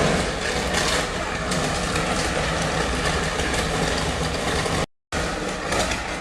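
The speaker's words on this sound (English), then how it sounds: "Take a look at Japan's incredible Shinkansen, racing along the tracks at speeds reaching up to 270 km per hour." A Japanese Shinkansen bullet train races along the tracks at up to 270 km per hour, making a loud, dense, continuous rushing roar that cuts out briefly for a moment near the end.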